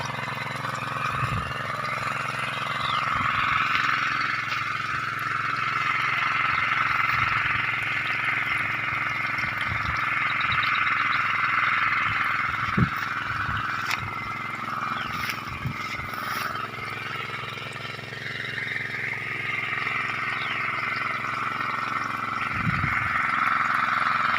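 A small engine drives a water pump feeding a local drip irrigation line for papaya in Tarlac, running as a steady mid-pitched hum with a continuous rushing water layer and scattered low thumps.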